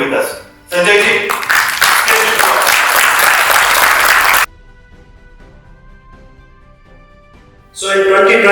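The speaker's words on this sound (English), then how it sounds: "with big round of applause, I now invite Sanjay ji to share his words of wisdom with us" An audience at a conference breaks into a big round of loud applause for the chief guest, sustained for several seconds before cutting to quiet, then rising again at the end.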